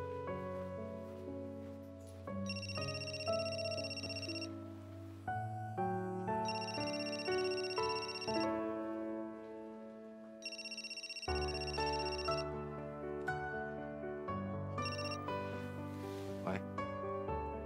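A melodic phone ringtone repeats in regular bursts of bright tones, layered over steady background music in a drama scene, with no one talking.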